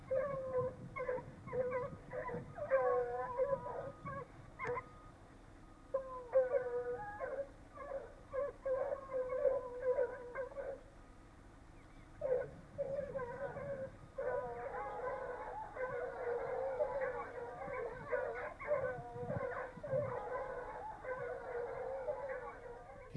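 Hunting hounds bay in a chorus while chasing a hare across open country near cows, giving repeated, rhythmic cries that rise and fall at a moderate distance for the whole stretch.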